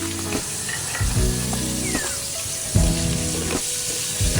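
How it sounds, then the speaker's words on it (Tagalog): Onion and garlic sautéing together in hot cooking oil in a Filipino home kitchen, a continuous close sizzle broken by spatula clatters and pan knocks at intervals. "nilagay na natin pinagsabay natin sibuyas at bawang"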